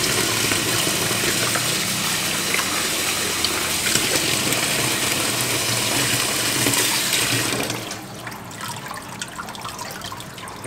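Water gushes out in a steady, loud, splashing pour as it is drained off while separating sludge worms from mud, then drops to a softer trickle and drip near the end.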